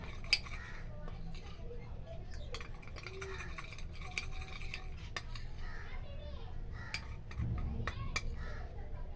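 A spoon scrapes and clinks against a bowl as barley powder, rice powder and curd are stirred into a face pack, with faint irregular taps close by and low talk in the background.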